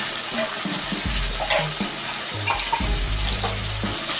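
Chicken liver mixed with yogurt, dry chili powder, turmeric, cumin and salt hitting hot oil in a pan, giving a steady hiss and sizzle with faint clinks and stirring throughout.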